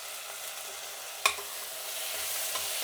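Green chillies fry in a pan with a faint, even sizzle and one sharp utensil tap early on, with no voices.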